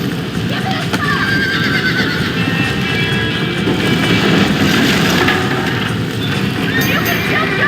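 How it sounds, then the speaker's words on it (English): Horse neighing and galloping in the video game Red Dead Redemption, clip-clop hoofbeats running steadily beneath a whinny, with someone talking over the continuous game sound. "That dumb horse."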